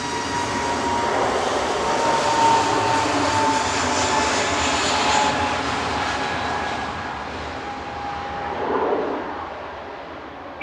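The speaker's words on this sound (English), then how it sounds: "GUZ LR departing A320 Neo." An easyJet Airbus A320neo departing Manchester Airport on an evening flight to Bilbao, its engine roar sustained and steady at moderate distance, swelling slightly near the end with no talk.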